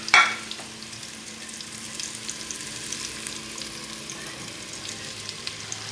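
Food crackles and sizzles in olive oil in a pan, a constant close hiss after a brief sharp clatter at the start, with no voices.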